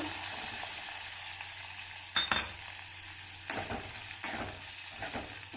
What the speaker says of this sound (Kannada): ಎಣ್ಣೆ ಕಾದಿದೆ ಇವಾಗ ಈರುಳ್ಳಿ ಹಾಕೊಳ್ತಾ ಇದ್ದೀನಿ ನಾನು